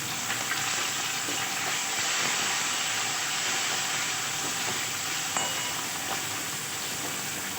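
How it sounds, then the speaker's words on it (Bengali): Onion, ginger and tomato frying in a pan with black cumin seeds, a dense, loud, hissing sizzle that holds steady throughout with a few faint utensil knocks. "এগুলোকে ভেজে নিই।"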